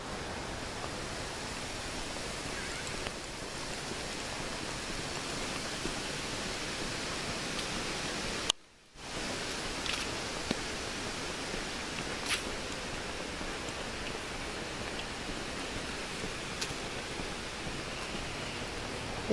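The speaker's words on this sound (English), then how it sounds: "here we are with Nolly going for a walk outside on a slightly rainy day." Light rain falling outdoors during a dog walk, a soft, steady hiss that stays even and fairly quiet throughout with a brief dropout partway, and no voices.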